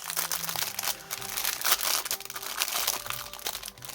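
Plastic packaging crinkling and crunching up close while a dinosaur box is unboxed, a busy run of irregular crackles and rustles with no talking.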